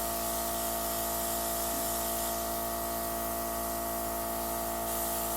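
A steady airbrush sprays makeup foundation continuously at close range, a fine constant hiss with a faint underlying hum and no pauses.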